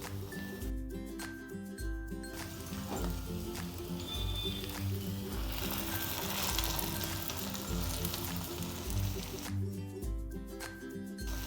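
Malpua fry in a pan with a steady, close sizzle and soft crackling that runs without a break, over a constant low tonal background.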